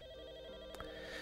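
A telephone rings in a scene from the 1992 horror film Candyman, a steady electronic ring heard alone at moderate level, with a brief sharper click partway through.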